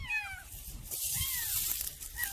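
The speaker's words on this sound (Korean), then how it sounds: "아유, 새끼 고양이입니다." A stray kitten gives several high, wavering meows that rise and fall, close by and fairly clear over a low rumble of background noise, with no talk over it.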